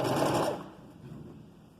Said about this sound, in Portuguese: E aqui a gente vai costurar agora, bem na pontinha aqui do chuleado.